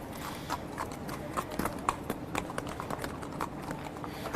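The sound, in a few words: racehorses walking by at Churchill Downs stables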